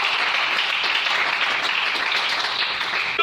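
A church congregation claps steadily and loudly, dense applause filling the hall without pause for a few seconds.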